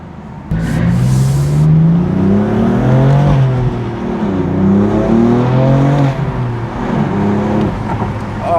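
A 2020 BMW M4 with a manual gearbox and turbocharged engine accelerates hard, its note climbing and dropping through repeated rising pulls with a gear change midway, loud and close.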